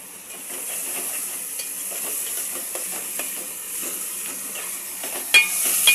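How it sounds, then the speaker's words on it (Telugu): Chopped tomatoes frying in a pan for cauliflower tomato curry, giving a steady close sizzle with light stirring scrapes throughout and a couple of sharper clinks near the end. "టమాటాలు వేసాను, మగ్గుతుంది."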